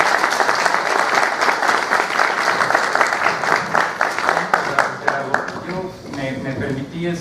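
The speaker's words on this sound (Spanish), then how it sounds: "pido que reciban a Víctor con un aplauso" An audience at a book presentation applauds to welcome a speaker, sustained loud clapping from a crowd that fades toward the end.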